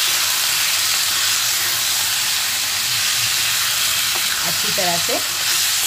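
Goat kidney and liver sizzle and fry steadily in a pan with stirring scrapes, a dense continuous hiss throughout, and a voice speaks briefly near the end.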